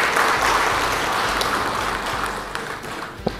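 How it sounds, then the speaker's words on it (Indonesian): A seated audience at a formal Indonesian government gathering gives sustained applause, a thick roar of hands that slowly thins toward the end with a few stray claps. "Tepuk tangan dulu lah."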